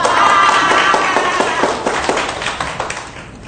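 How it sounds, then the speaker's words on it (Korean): Students in a university lecture hall give a short round of clapping that starts as a brief burst and thins into scattered, separate claps, fading within a few seconds. "우리 오빠를 위해서 박수."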